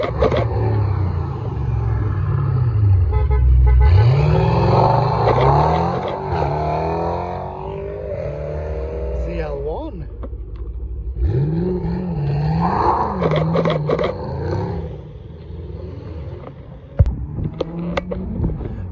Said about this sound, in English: That sounds like it's got pipes.